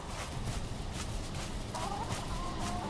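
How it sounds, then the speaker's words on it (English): Chickens clucking in Valheim, soft intermittent calls over a steady low in-game ambient background, fairly faint and distant with no talk. "I think I heard chickens walking around"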